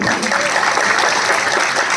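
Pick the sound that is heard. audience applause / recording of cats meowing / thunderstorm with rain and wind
audience applause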